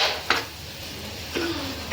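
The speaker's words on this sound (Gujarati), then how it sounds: "આપણે હવે બધું મિક્સ કરી દઈશું." Guvar dhokli curry (cluster beans with dough dumplings) stirred in a pan: two sharp metal clinks of a spoon against the pan, with soft scraping and a quiet room hum between them.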